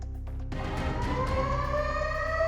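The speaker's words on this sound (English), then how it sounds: "When the sirens began blaring at the Russian Black Sea Fleet Command Center in Sevastopol" Air raid sirens blaring at a naval fleet command center, a loud, sustained wail rising steadily in pitch after a low rumbling start, with no voices.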